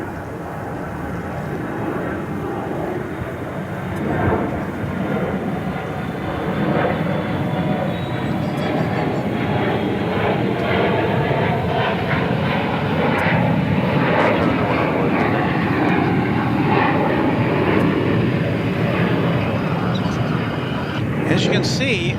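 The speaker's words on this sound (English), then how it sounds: "as soon as that plane lifted off, the next one got clearance to start its roll" An airliner taking off at DFW Airport, a loud sustained jet engine roar building and holding steady across the runway roll and climb, continuous throughout.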